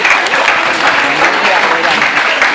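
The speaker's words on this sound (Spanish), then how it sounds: "denle un aplauso a Jesús" A church congregation applauding for Jesus during a Sunday service, loud close clapping that is even and sustained, with voices faintly mixed in.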